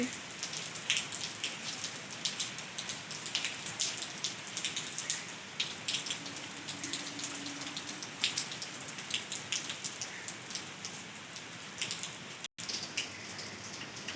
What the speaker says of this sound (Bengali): হঠাৎ করেই মেঘ করে বৃষ্টি শুরু হলো